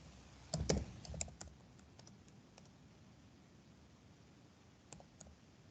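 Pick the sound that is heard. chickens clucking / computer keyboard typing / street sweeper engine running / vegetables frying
computer keyboard typing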